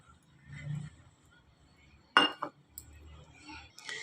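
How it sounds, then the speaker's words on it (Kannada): A spoon clinks against a bowl as custard powder is stirred with milk, a few sharp metallic taps and scrapes spaced apart in a quiet kitchen. "ಈಗ ಇದಕ್ಕೆ ಹಾಲು ಹಾಕ್ಕೊಂಡು ಮಿಕ್ಸ್ ಮಾಡ್ಕೊಳ್ಳೋಣ."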